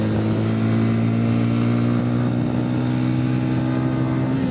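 Dafra Kansas 150 motorcycle with nearly 99,000 km on it, engine running steadily while riding, a loud continuous low drone with strong harmonics and wind rush, no voices.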